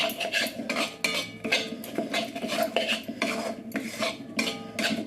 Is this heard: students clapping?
no